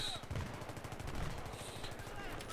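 Rapid automatic fire from an MG36 machine gun in a video game, a dense, continuous stream of gunshots with faint distant rattles behind, fairly quiet and unbroken for a couple of seconds.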